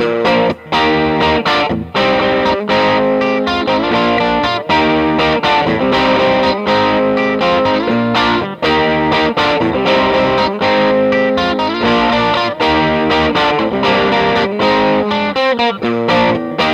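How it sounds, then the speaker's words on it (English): A Gretsch Electromatic G5420T hollow-body electric guitar plays classic rock riffs on its bridge pickup through overdrive, a loud, continuous distorted tone with rhythmic chords and short breaks between phrases. "There's nothing better than the bridge pickup with some overdrive for some kind of classic rock sound and stuff like this."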